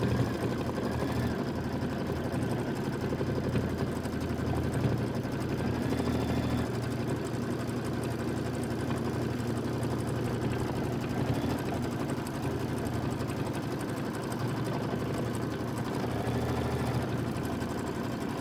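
A Kimberbell embroidery machine stitches a marmalade satin outline with a steady, continuous mechanical whir and low motor hum that holds evenly throughout, with no talking.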